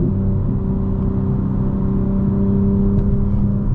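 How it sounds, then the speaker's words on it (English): A 2025 BMW M4 Competition xDrive downshifting and braking on a bumpy road, heard as a steady low engine rumble and cabin whir from inside the car, loud and even with no talking. "Now I'm downshifting and braking."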